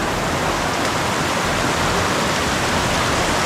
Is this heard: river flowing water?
yes